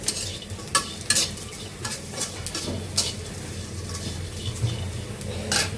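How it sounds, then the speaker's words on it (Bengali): Lentil dumplings frying in oil in a pan with onion and garlic, a steady sizzle broken by scraping stirs, with no voices. "এখন আমি বড়িটা ভেজে নিচ্ছি একটু লাল লাল করে ভেজে নিতে হবে"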